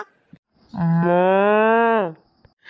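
A cartoon cow lets out a single loud, drawn-out moo of about one and a half seconds, with a steady rich tone that drops at the end. It stands alone against near silence, with small noises before and after.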